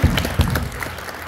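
An audience at a big band concert applauds, a loud close burst of clapping with a few strong claps near the start that settles into steady applause.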